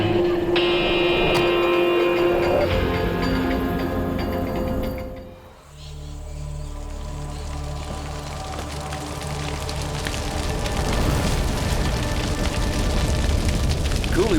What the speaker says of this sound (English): Coolibah is on fire.